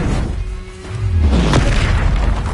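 A Confringo spell explosion in Hogwarts Legacy lands as a deep, loud boom with a swooping whoosh before it, followed by a sustained rumbling burst of noise.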